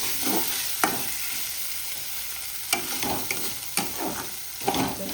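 Ginger garlic paste fries in a pan for a chicken liver pepper dry, giving a steady low sizzle with several sharp scraping knocks of a spoon stirring against the pan.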